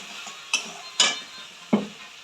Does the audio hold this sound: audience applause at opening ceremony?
no